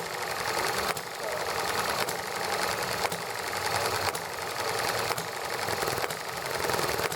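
An ET1 stationary engine running at a steady pace, with a regular rapid mechanical clatter and a distinct knock about once a second, near and continuous while a person chats in the background.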